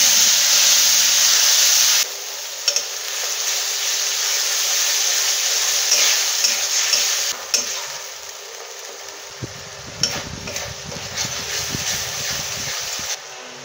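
A ground spice paste of cumin, dried chilli, tomato, onion, ginger and garlic fries in hot oil for a cauliflower and potato curry, giving a loud, steady sizzling hiss that softens partway through, with occasional scraping stirs later.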